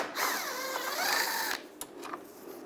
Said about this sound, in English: Now in here, we're going to take this screw out,